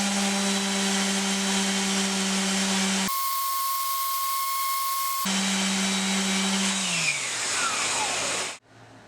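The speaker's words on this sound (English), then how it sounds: "here I'm just measuring it out and drilling the holes." A steady, loud power drill whine runs continuously while drilling holes in an elm slab bench, briefly shifting pitch midway, then winds down and stops at the end.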